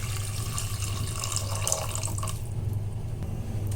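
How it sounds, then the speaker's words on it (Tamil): Tamarind water is poured from a tumbler into a pot of uncooked rice for a one-pot rice dish, giving a close, steady splashing pour that trails off into quiet. "இப்போ வந்து இந்த புளி கரைசல் தண்ணி வந்து 1 டம்ளர் இதில் ஊற்றிடுறேன்."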